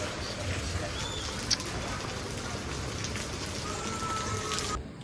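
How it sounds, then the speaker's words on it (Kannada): Heavy rain pours down in a dense, constant hiss and patter, steady throughout with no break. "ಇನ್ನ ಯಾವಾಗ ಮಳೆ ನಿಲ್ಲುತ್ತೋ ಗೊತ್ತಿಲ್ಲ ಅಲ್ಲಿದ್ದೆ ಕಮ್ಮಿ ಆಯ್ತು ಅಂತ ಇಲ್ಲಿ ಬಂದೆ ಇನ್ನೂ ಜಾಸ್ತಿ ಆಗೋಯ್ತು ಮಳೆ"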